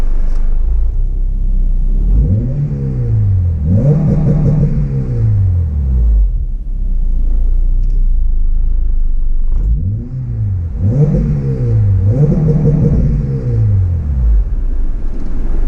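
A 2002 Acura RSX Type-S engine idles with a steady low rumble, then revs up twice in two sharp rising and falling bursts before settling back to idle, close and loud with no talking.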